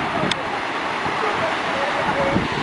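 A waterfall at Yellowstone National Park pours in a steady, dense rush that holds evenly throughout, heard at moderate distance with wind and faint background noise mixed in.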